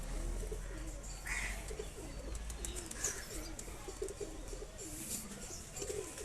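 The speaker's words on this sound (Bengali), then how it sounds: "এটা দেখলেই আপনারা বুঝতে পারবেন এটা কিন্তু নর কবুতর" A male pigeon held in the hand coos in a soft, rhythmic series of throaty rolls, close and fairly quiet, with no one talking.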